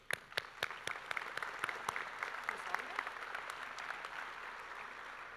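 Applause from a high school graduation audience, opening with several loud separate claps that spread into a steady crowd clapping across a large hall, moderately distant.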